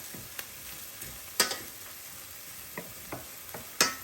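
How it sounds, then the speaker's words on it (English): Onions cook in a pan over medium heat with a quiet, soft sizzle, broken by a few sharp taps and scrapes from a utensil stirring them. "now that our onions have been cooking for a little bit"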